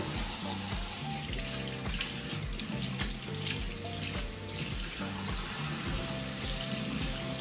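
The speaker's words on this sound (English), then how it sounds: "I'm gonna take the hot side, I'm gonna run it until it gets really warm" Hot water runs steadily from a tap into a sink, a constant close gush with no talking.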